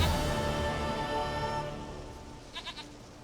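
A goat in The Witcher 3 gives a few short bleats near the end, faint and brief over steady ambient game sound.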